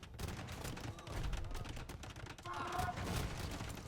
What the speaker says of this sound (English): Ooh, the cannons!